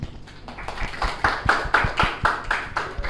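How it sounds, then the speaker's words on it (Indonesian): A small group of students claps in a classroom, a short burst of rhythmic, fairly close hand claps in a steady beat, with no talking over it. "Tepuk tangan."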